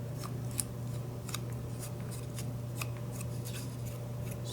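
Scissors snip small pieces of paper for a vintage angel Christmas tree topper, a quick series of close, crisp cuts over a low steady hum.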